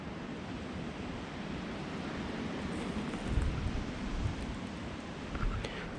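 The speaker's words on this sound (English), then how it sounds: "The wind is blowing pretty good." Wind blows outdoors in a woodland where morel mushrooms grow, a steady broadband rush buffeting the microphone with a few louder gusts partway through.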